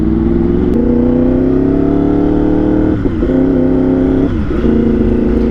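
Yamaha R1 superbike converted from track to street use, its engine droning loud and close at a steady pitch with a couple of brief throttle dips and gear changes between rises, no voices over it.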